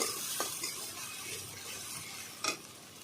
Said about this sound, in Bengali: সব ভালো করে আমি মিশিয়ে নিচ্ছি সব একসঙ্গে